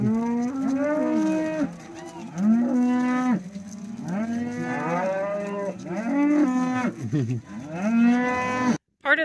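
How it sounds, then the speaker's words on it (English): Cattle mooing during a cattle drive on a Northern California national forest route, a herd of cows lowing loudly and repeatedly, several long overlapping moos near and in succession. "The cows kept getting thicker and thicker, and pretty soon we found ourselves in the middle of a cattle drive."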